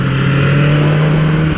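BMW S1000RR superbike, brand new and still in its break-in period, holding a high, steady engine drone at speed on a race track, loud and close, with a sustained tone and no voices.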